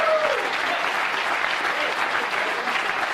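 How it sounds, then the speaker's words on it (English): An audience at a school prize day gives a brief round of applause. The dense clapping holds steady for a few seconds, with faint murmurs of the crowd mixed in. "But give her a round of applause."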